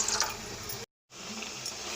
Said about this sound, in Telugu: ఇప్పుడు వాటర్ పోసుకుని పెసరపప్పుని ఉడికించుకోవాలి మెత్తగాను.